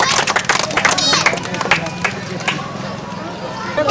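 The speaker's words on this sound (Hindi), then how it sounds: "भैया के लिए एक बार जोरदार तालियां" A crowd claps and cheers for the winner of a drink-ten-glasses-of-soda-in-one-minute challenge, close and dense, with lively chatter and shouting over the steady applause.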